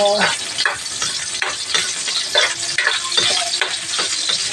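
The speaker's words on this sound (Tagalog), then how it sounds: "Lutuin muna natin ang mabuti yung sibuyas guys." Onions sizzle steadily in a hot pan, with repeated scraping stirs of a utensil every second or so, close and fairly loud.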